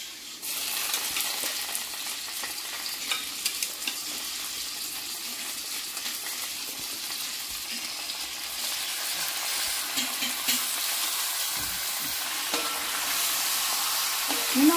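Chicken pieces added to fried onions in a pan for garlic chicken, giving a bright continuous sizzle that grows stronger toward the end, with faint stirring scrapes and no talking.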